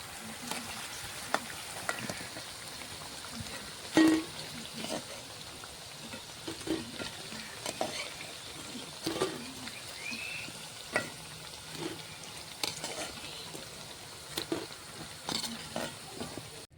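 Jackfruit fritters frying in hot oil in a home kitchen: a soft, steady sizzle broken by occasional sharper crackles and stirring clicks, fairly quiet and close, with no talk over it.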